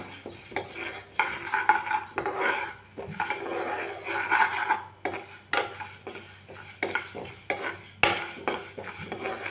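Rice flour dry-roasting in a pan on a gas stove for murukku is stirred with a spoon, giving close, irregular metallic scrapes and clinks in quick strokes with short gaps.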